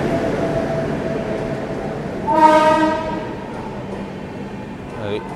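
A train hauled by a WAP7 electric locomotive pulls into a station with a continuous low rumble and rolling roar, and a loud two-second horn blast sounds midway.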